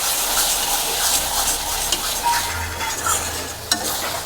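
Spice paste with salt and a little sugar sautéed in a pan for a jackfruit kofta curry, a loud continuous sizzle with a steady stirring scrape and an occasional sharp knock of the spoon.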